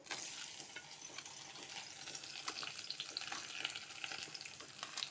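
Coconut pieces fry in a pan with onion, ginger and garlic for a beef curry, a steady, quiet sizzle broken by light scraping and stirring clicks.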